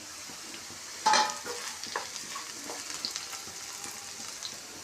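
Bitter gourd pieces fry in a pan with a soft, continuous sizzle, broken by a sharp clatter of stirring near the start and small crackles after it, fairly quiet overall.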